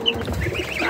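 Young backyard chickens in an egg-laying coop giving short, close clucks and soft chirps in a brief burst.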